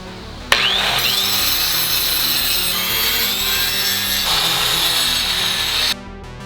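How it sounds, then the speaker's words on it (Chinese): Hand saw working through a wooden floor board for a camper van build, a steady close rasping that runs continuously for several seconds with a sharp start and abrupt stop, no talk. "刚已经锯完差不多的木头了"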